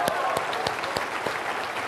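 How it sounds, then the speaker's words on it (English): Audience applause at a Millionaire Mind Intensive seminar, a steady wash of many hands clapping that holds at an even level through the short stretch with no one speaking over it. "give her a big round of applause"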